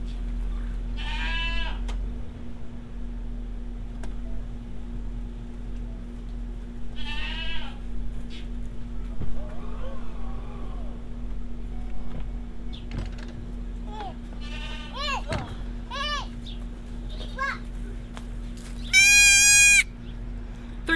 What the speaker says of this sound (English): So let's start loading some baby goats.